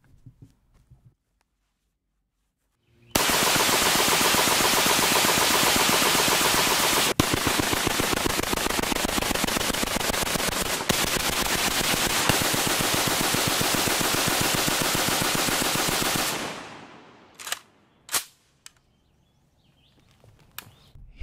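A Sturmgewehr StG44 (MP43/MP44) assault rifle fires full auto in one long, loud, unbroken burst of about thirteen seconds, then a few sharp, separate shots follow after a short gap.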